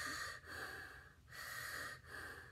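Someone imitates breathing through a snorkel: three hollow, raspy wheezing breaths in a slow rhythm, close and fairly quiet.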